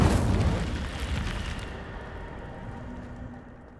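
Incendio fire spell cast in Hogwarts Legacy, a loud whooshing burst of flame that bursts up close and then trails off into a fading rumble over a few seconds, with no talk.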